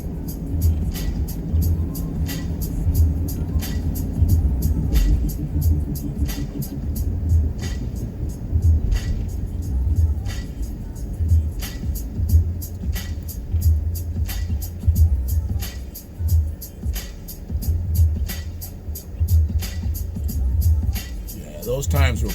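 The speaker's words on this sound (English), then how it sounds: "I'm just driving down Carpenter." Car driving down Carpenter street, a steady low engine and road rumble with repeated ticking clicks throughout, heard from inside the vehicle with a person talking over it.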